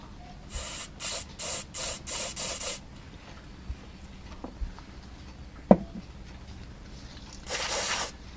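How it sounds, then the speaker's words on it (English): Carburettor cleaner sprayed through the passages of a disassembled outboard motor carburettor: six short hissing bursts in quick succession, then a few small clicks and knocks, and one longer spray burst near the end. "So spraying a bit of carb cleaner right through these"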